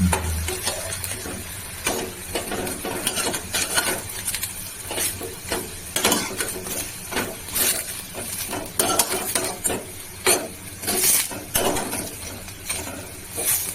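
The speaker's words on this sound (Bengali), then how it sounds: "বেশ এপিট ওপিট করে ভালো করে ভাজা হয়েছে। সুন্দর করে ভেজে নিয়েছি।" Drumstick flower fritters fry in a pan with a soft continuous sizzle, broken by repeated scrapes and light metallic clinks as a utensil turns them.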